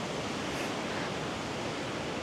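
Harmby Waterfall roaring as a dense, steady broadband rush of falling water, loud and continuous with no voices.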